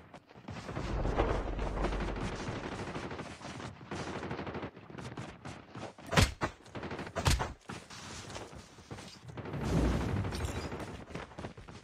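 Gunfire in COD Mobile, with dense bursts of automatic shots and a few sharp louder cracks near the middle, sustained and close over game ambience.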